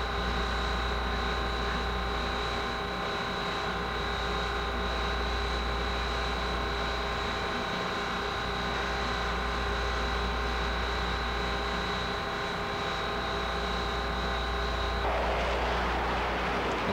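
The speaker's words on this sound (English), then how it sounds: "Two Phantoms flew past, and also a Harrier came along." Military jets, two Phantoms and a Harrier, pass over the Falklands, heard as a steady loud roar with a constant high whine that breaks into broader noise near the end.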